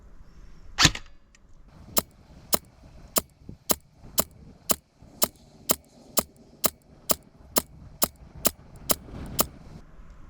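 Gas blowback shots from a KWA F90 airsoft rifle ring out at an outdoor range: one sharp crack, then a steady string of about fifteen evenly spaced snapping pops, each clear and distinct against quiet background.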